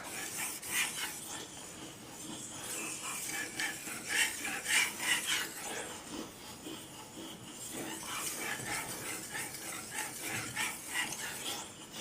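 A knife blade being drawn across a 4000 grit whetstone, a soft gritty rasp repeated in steady back-and-forth strokes, close up and alone with no voices.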